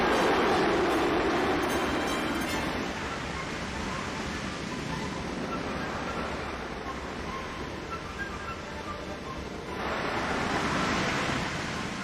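A strong, steady roar of wind at Jupiter's red spot in an animated space series, loud and continuous with a broad rushing texture that swells again near the end.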